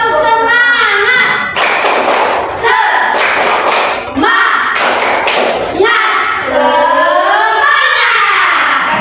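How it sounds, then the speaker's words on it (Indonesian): A school class does a rhythmic spirit clap, loud bursts of many hands clapping together in a set pattern, alternating with children's voices chanting in unison, close and filling the room. "Sekarang tepuk semangat"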